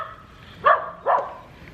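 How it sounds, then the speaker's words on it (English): A dog barks twice in quick succession, moderately distant, over a low steady background hum. "I do apologise for the barking."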